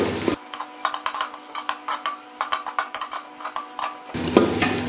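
Ginger garlic paste is stirred into golden brown onions frying in a pan for a commercial dal chawal recipe, giving a steady sizzle broken by repeated scraping and stirring clinks, close and fairly quiet, with no voices.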